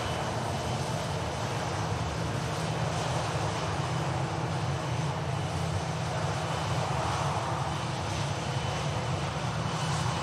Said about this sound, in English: Following this TAP Air Portugal, we have an EasyJet A320 heading